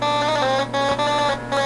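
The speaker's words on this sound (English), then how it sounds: "And buzzer." A buzzer sound effect from a Nintendo DSi gives a harsh, reedy electronic drone in three short bursts separated by brief gaps. It is loud and alone.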